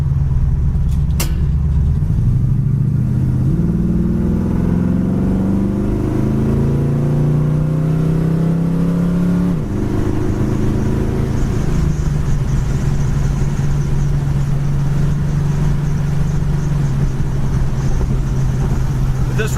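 A 1969 Chevy Camaro accelerates along the road, its engine loud and close, pitch rising through successive gears before settling into a steady cruising drone.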